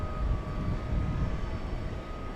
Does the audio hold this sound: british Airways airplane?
yes